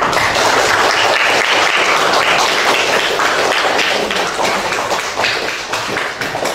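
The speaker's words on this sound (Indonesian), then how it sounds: "tepuk tangan untuk kalian semua" A class of students applauds their teacher's praise in a classroom, steady dense clapping that stays loud throughout, with no one speaking over it.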